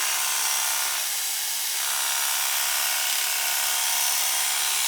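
An Artero hair clipper runs with a steady, high-pitched buzzing hum that holds even and continuous, close and alone, with no voices.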